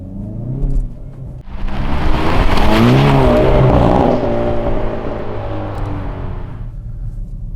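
Hyundai i30N hot hatch driving out onto New Zealand roads, its engine rumbling loud and close, rising into a strong sustained drone as it accelerates, then easing slightly while still running steadily to the end.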